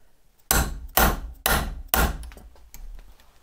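A hammer strikes a mandrel four times at an even pace to shape a motorcycle control-cable end. Each blow is a sharp, close metallic knock, followed by a fainter tap.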